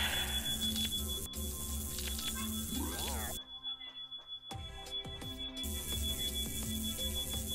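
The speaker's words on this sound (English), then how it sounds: "That is a fire alarm" A household smoke detector goes off from cooking smoke, sounding a steady, piercing high-pitched tone that runs almost continuously through the clip, briefly dropping out midway, over a busy layer of other background sounds.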